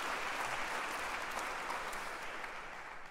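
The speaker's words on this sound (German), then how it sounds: "Dafür können Sie gerne einen Applaus geben." Audience applause at a Gürzenich-Orchester Köln concert, a dense, steady wash of many hands clapping, distant and moderately faint, with no talk over it.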